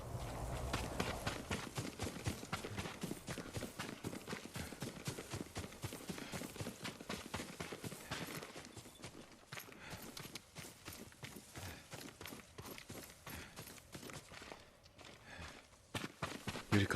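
Horse hooves clip-clopping steadily in the video game Ghost of Tsushima, a continuous close rhythm of hoof strikes over a dense outdoor ambience.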